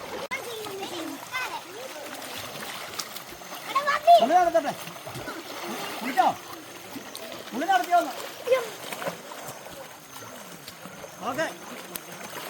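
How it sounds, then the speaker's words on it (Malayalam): Water splashes and sloshes repeatedly, close by, while children and adults talk over it. "വെള്ളം ഒഴിക്കട്ടെ."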